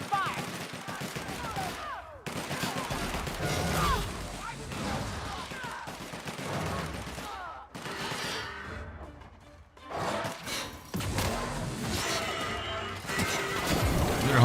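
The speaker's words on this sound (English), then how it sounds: "Opening fire!" Heavy gunfire in The Outer Worlds crackles in dense, repeated volleys during a chaotic firefight, with crashes and shouting voices mixed into the loud, continuous action.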